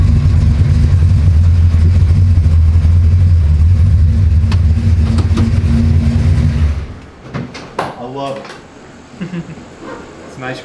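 A 1967 Dodge Dart engine with a stumbling issue drones loudly and steadily for several seconds while driving on a road, then drops away, leaving quieter road noise and people talking.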